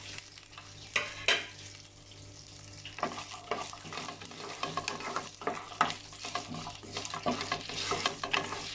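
Garlic and tamarind sautéed in a hot pan for lentil thuvaiyal, giving a light close sizzle broken by repeated scraping stirs of a spoon against the pan, with no talking.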